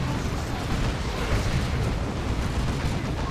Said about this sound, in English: The Dreadnought, I think, is trying to burn down the garrison, but they're taking Las Cannon shots and Plague Marine shots